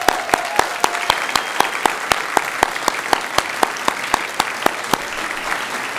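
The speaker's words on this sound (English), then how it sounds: "let's give them a round of applause" An audience at a university student teacher recognition ceremony applauds cooperating teachers, a full wash of clapping with one nearby clapper standing out in a sharp, steady beat throughout.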